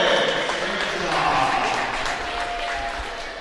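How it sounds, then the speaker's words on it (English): A couple hundred fans applaud steadily at a college sports meet between A&T Stevenson and West Liberty, with sustained, even clapping and a commentator talking over it. "Just round of applause of the couple hundred fans in attendance here,"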